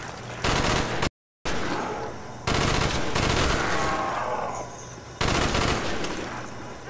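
Several separate bursts of fast automatic gunfire rattle out in Call of Duty: Black Ops, loud and close, broken by short gaps between volleys.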